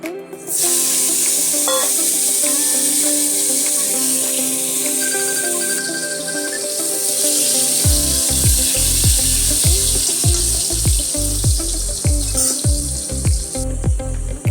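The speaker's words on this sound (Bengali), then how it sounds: "নুন হলুদ মাখিয়ে ভেজে নেব" Potato pieces coated in salt and turmeric sizzle loudly in hot oil in a wok, a steady bright hiss broken in the second half by repeated thuds and scrapes of stirring, close and with no one talking.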